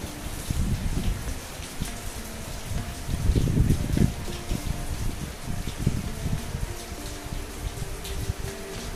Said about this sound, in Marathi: आंबोलीमध्ये पावसाचं जोरदार आगमन झालेलं आहे.